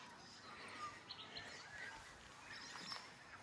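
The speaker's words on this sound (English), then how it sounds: "Birds." Birds chirping in an early morning country cottage garden in subtropical Australia, faint scattered tweets and calls drifting from a distance over quiet background hum.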